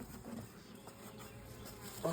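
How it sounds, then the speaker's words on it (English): Bees buzzing near their hive in a corner nest, a soft, continuous drone of many insects close by with no voices, faint and steady throughout. "Oh, I know these bees"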